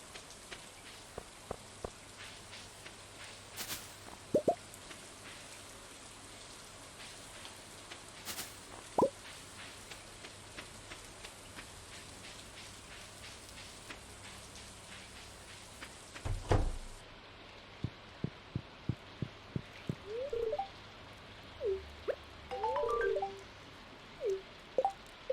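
Rain falls in the video game Stardew Valley, a soft steady patter under scattered louder drips and taps, with occasional light clicks and plinks standing out near the end.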